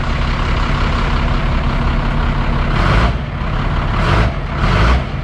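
A 1991 Freightliner FL70 tow truck, left sitting for years, has its diesel engine revved: a loud, close, steady low drone that rises in a few short bursts of throttle.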